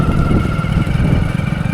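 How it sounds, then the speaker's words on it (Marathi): A motorcycle engine hums steadily nearby, a loud continuous drone that holds through the whole moment without a clear rise or fade. "दुसरी पण कोणाची तरी बाईक आहे."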